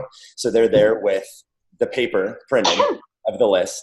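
A single sneeze breaks into a round-table conversation about a cycle studio, with people talking before and after it.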